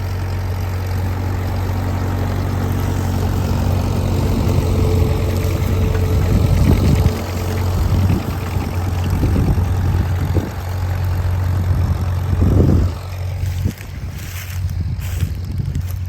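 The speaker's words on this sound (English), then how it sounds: "This is the Farmall M again. It's the one I own. Again, very powerful tractor, plows well" A Farmall M tractor pulls a plow outdoors at a plow day, its engine a loud, steady low throb with rising and falling surges of labouring, and wind noise in the background.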